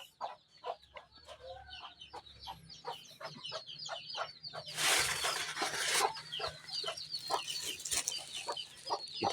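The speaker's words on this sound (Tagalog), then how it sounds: "Papakainin ko na." Native chickens cluck and chirp in a busy, overlapping flock at feeding time, a steady patter of short calls with a burst of louder rustling and scratching midway, no talking.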